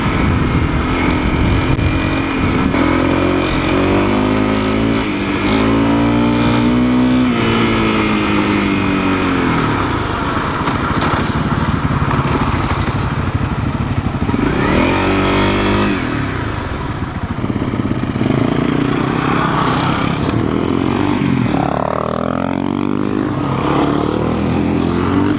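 A dual sport motorcycle rides a dirt road at Burns Canyon, its engine rising and falling through repeated rev climbs and gear changes, loud and close, with wind rush and no talk.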